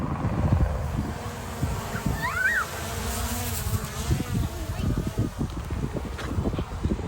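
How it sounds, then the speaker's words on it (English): A large horsefly buzzes close by over steady wind rumble outdoors on a farm, the drone wavering as it moves, with a voice speaking faintly underneath. "It looks like a big horsefly."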